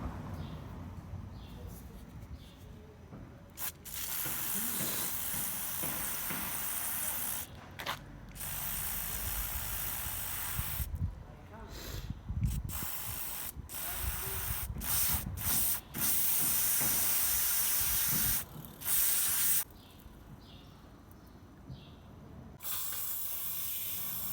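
Cleaning spray hissing from an aerosol can onto a brush while cleaning a car's throttle body, in repeated bursts of varying length separated by short pauses, close to the listener, with small mechanical clicks.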